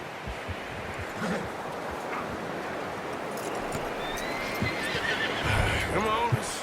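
A horse in the game Red Dead Redemption 2 whinnies near the end amid a camp scene, with hoof clops and movement, while a voice talks over the background.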